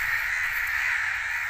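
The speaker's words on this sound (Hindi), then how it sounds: "ये कौवे मुझे नुकसान न पहुँचा दें क्योंकि वो मेरे पीछे पीछे हैं, मेरे सर के ऊपर ऊपर हैं" Crows caw overhead in a village, a dense, harsh, continuous cawing chorus that is steady and fairly loud throughout.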